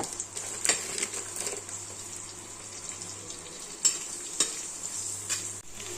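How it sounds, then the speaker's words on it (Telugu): Sliced onions sizzling in a pan with salt for a home chicken curry, a steady soft frying hiss throughout, broken by a few sharp stirring clatters and scrapes, with no talk. "ఆనియన్స్ కొంచెం ఎర్రగా వేగితే బాగుంటుంది టేస్ట్"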